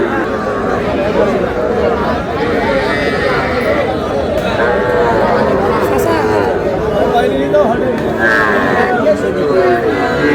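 Sahiwal bull calves at a cattle market moo repeatedly and loudly amid constant crowd chatter and overlapping voices, the lowing close and continuous throughout.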